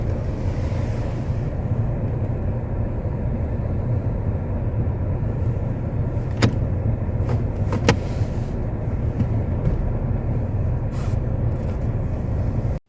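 A car engine, not yet fully warmed up, rumbles steadily at low pitch from inside the vehicle, with a few faint clicks and squeaks as it gets moving.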